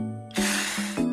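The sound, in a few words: spraying water on old wallpaper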